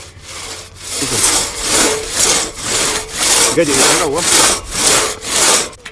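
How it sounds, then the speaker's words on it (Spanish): A diseased tree is cut with traditional hand tools, a hand saw rasping through wood in steady, loud back-and-forth strokes, about eight rhythmic passes with no talking. "cortar un árbol enfermo con las herramientas que utilizaban sus antepasados"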